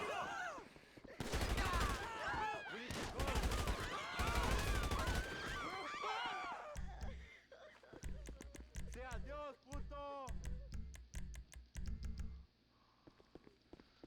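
Bursts of automatic gunfire in the GTA Online Cayo Perico heist, sharp repeated shots in dense volleys then sparser single cracks, loud and up front with a voice talking over parts of it.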